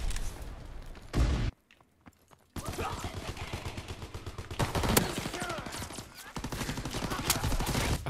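Shotgun fire in the Call of Duty WW2 video game comes in dense bursts of blasts with a sharp loud shot near the middle and a short silent gap early on.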